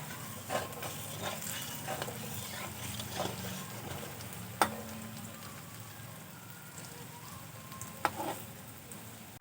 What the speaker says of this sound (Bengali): বাকি মিষ্টিগুলোও আমি ভেজে নেব